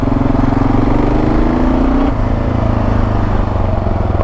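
Kawasaki KLR 650 motorcycle under way, its engine droning steadily and loudly close by, pitch climbing slightly then settling after a gear change, with wind rush throughout.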